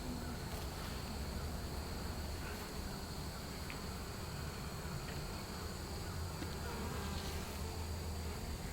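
Honey bees in a horizontal hive with deep frames drone in a steady, dense buzz that holds evenly throughout, close and continuous with no talk.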